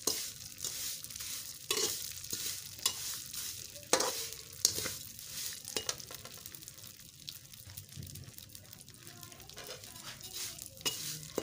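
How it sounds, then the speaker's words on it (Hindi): Vermicelli is roasted in a pan with a soft, continuous sizzle, while a spoon scrapes and stirs it in irregular strokes close by, a few louder clinks standing out. "अब इसमें हम सवैयाँ डाल देंगे। सवैयों को हमने भून लेना है।"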